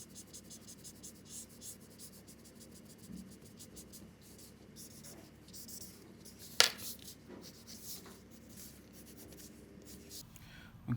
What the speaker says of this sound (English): I can come back with my black pencil and reinforce this